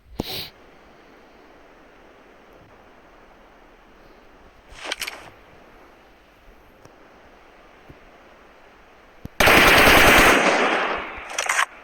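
PUBG Mobile gunfire comes in short bursts: a quick shot at the start, another brief burst around five seconds, then a long, loud, dense stretch of automatic fire near the end over a quiet background hiss.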